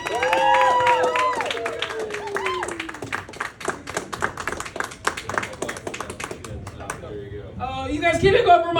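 An audience at a comedy show in Sanford, Michigan claps for a comedian. A voice calls out over the crowd, then steady, close hand-clapping with scattered taps continues under ongoing talk.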